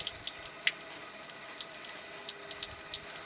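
Tap turned fully on to emulate a burst pipe, a steady hissing rush of running water with faint irregular splashes, heard up close with no talking.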